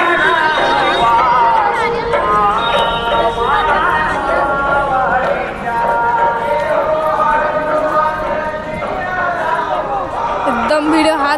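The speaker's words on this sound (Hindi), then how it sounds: "एकदम भीड़ हादी" A dense crowd at the Banjari Mata temple, with many voices chattering and overlapping in a loud, continuous babble close around the listener.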